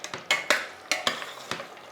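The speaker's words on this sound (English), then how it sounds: "I'm going to switch the spot off, give it a good stir" Ladosh, a traditional Eid dish, being given a good stir in a pot with a spoon, the heat just switched off; a few scraping, clinking strokes spaced irregularly, close and clear with no talk.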